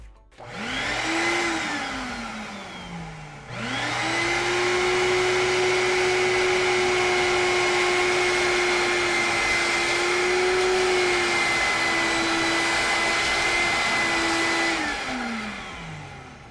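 A pump-style vacuum draws water out of a boat's shower bilge: a motor whines up, cuts out briefly, then restarts and drones steadily, its pitch shifting slightly as it slurps, before winding down.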